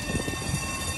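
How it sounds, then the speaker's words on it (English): A Snaefell Mountain Tramway electric tram on the Isle of Man rolls past, a steady, loud rumbling and rail hum filling the whole moment without any voices. "We just managed to get in time for the tram. Snaefell Mountain Tramway. There it goes."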